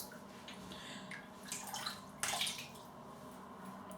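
A shaving brush dunked and swished in cold water at a bathroom sink, giving soft close splashing and dripping with a brief louder slosh partway through.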